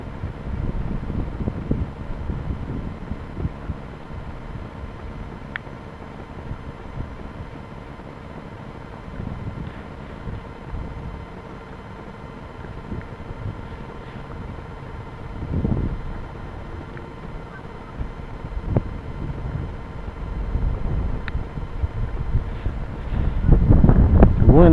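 Strong wind buffeting a microphone during a small GPS drone flight outdoors, a continuous low rumbling roar with gusty thumps throughout, growing heavier toward the end.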